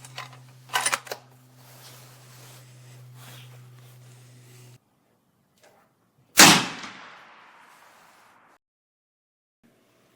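A single sharp, loud rifle shot from a 300 PRC rifle cracks out after a stretch of steady mechanical hum and a few handling knocks, its report ringing and decaying over a couple of seconds before near silence.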